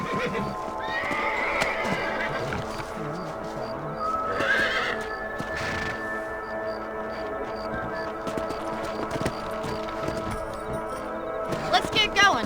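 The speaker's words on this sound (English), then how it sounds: "Let's get back on the horses and see what else is going on." Horses in the Red Dead Redemption video game, with hooves clip-clopping and a whinny or neigh near the middle over an ongoing game soundscape. Voices talk through much of it.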